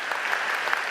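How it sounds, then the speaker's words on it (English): A brief burst of audience applause fills a church gathering, dense and even for under a second with no voices on top. "Let's give her a round of applause, everybody,"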